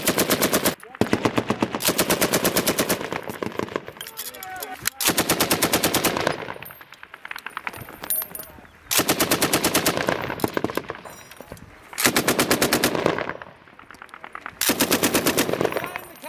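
US Marines in Afghanistan lay down recon-by-fire with a machine gun in real combat, loud sustained bursts repeating in several long strings separated by brief pauses.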